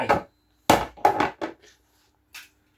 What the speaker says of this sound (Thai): เอาค้อนใส่เข้าไป